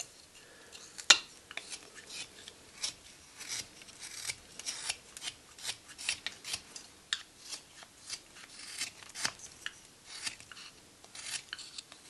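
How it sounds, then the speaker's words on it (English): A sharp knife whittling through a small basswood block gives repeated crisp shaving strokes, close and clear in a steady irregular rhythm, with no talk over it. "Love the sound of a sharp knife moving through the fibers of basswood."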